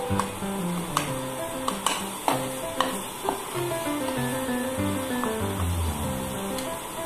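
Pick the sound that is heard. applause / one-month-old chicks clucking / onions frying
onions frying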